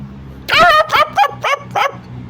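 An old dog, about ten years old, barks several times in a short burst, loud and close, with brief pauses between the yips.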